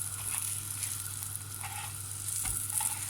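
Vegetarian steaks fry in a pan with a steady close sizzle and faint crackles, alone and with no talking.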